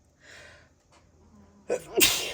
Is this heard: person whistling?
no